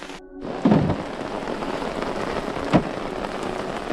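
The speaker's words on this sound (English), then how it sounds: "I know that I openly decided to stand around and enjoy the rain, but it's just still going" Steady rain falling over a mountain campsite, a dense close hiss of drops with a brief louder patter and a sharp knock near the end, no voices.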